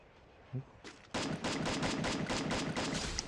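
Rapid gunfire from the Free Fire mobile battle game, a brief shot or two and then a sustained burst of evenly spaced automatic shots, loud and close, running to the end.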